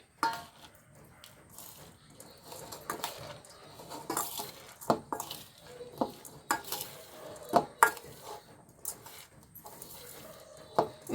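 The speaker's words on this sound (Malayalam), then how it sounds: "ഇനി ഇതിലേക്ക് ഞാൻ കുറച്ച് ഉപ്പിട്ട് കൊടുക്കുന്നുണ്ടേ എന്നിട്ട് ഒന്ന് ഇളക്കി കൊടുക്കട്ടെ" Semiya (vermicelli) being stirred with salt in a pan while making puttu, giving irregular scraping and clinking strokes of a utensil against the pan, close and fairly quiet, with no talking.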